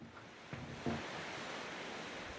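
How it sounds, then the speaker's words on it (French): Steady ocean surf washes around an isolated island lighthouse, a soft continuous roar of waves heard from indoors with a couple of faint knocks, fairly quiet and with no voices. "On a tout de suite le bruit des vagues qui nous bercent."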